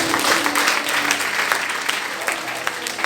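A church congregation bursts into sustained applause acclaiming Jesus, dense steady clapping filling the room at close range, with scattered voices calling out beneath it.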